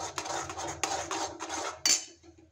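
A spoon scrapes and clatters around a kadhai as spice masala is stirred over low heat for a soybean curry. Repeated rhythmic metallic strokes sound close by, ending with one sharp clink.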